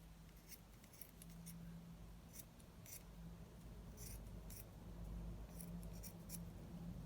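Scissors snipping through ribbon lengths to make tassels, a series of quick crisp cuts in irregular bursts over a low steady background hum, close and fairly quiet, no talking.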